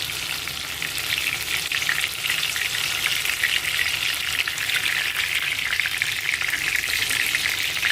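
Gilki bhajia deep-fry in oil in a kadhai over a high flame, giving a loud, dense, continuous crackling sizzle that stays steady from start to finish with no voices.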